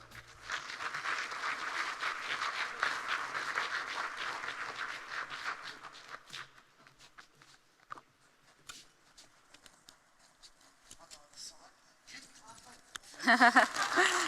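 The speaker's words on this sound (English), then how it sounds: "give them a round of applause" Audience applause at the PHN Awards 2025 ceremony for the David Briggs Rural Health Research Prize: dense, steady clapping for about six seconds, then fading under a speaking voice, with a short burst of louder noise near the end.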